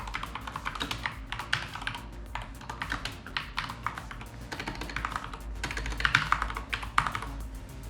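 A computer keyboard typed on steadily in quick, uneven bursts of close, crisp key clicks, with no voices.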